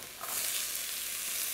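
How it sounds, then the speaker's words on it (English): Nasi goreng ingredients hitting hot oil in a wok, bursting into a steady bright hiss of sizzling that starts abruptly and stays loud and close with no voices. "That's a great sound. Never lose your sizzle"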